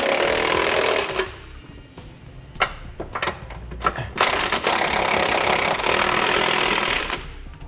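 Bolts for a Curt trailer hitch receiver being tightened on a 2017 Jeep Grand Cherokee, loud bursts of a rattling impact-wrench hammering separated by short pauses and a few clicks.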